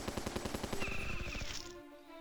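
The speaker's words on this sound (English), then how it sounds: "So MG turrets make really quick work of this specific encounter." Rapid machine-gun fire from an MG turret in the strategy game Battle Nations, a fast rhythmic burst of close, loud shots that stops abruptly, leaving a lingering mechanical ring and a faint tail.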